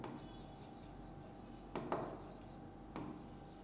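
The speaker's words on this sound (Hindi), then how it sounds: "तो ऐसा हम यहाँ पर लिख देते हैं।" Faint scratchy strokes of writing on a board, with a few brief, slightly louder marks standing out over a steady low room hum and no talking.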